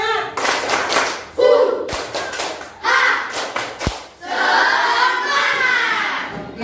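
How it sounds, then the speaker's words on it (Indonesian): Schoolchildren in an Indonesian classroom perform a rhythmic group cheer clap, with bursts of patterned claps and thumps mixed with shouted voices and talk, loud and close throughout. "Satu kali lagi."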